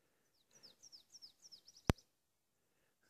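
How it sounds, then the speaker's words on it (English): A series of short, high chirping bird calls repeats rhythmically in a quiet outdoor setting on the Pacific Crest Trail near Seiad Valley around 6 o'clock, with one sharp click partway through. "Hear a bird every now and then"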